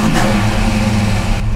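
A 1993 Mustang Cobra V8 with a slight cam runs close and loud, a steady rumbling idle with a brief rev swell near the start, no voices.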